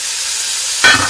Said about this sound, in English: I want to put color on the meat. So this goes down. I'm going to let it sear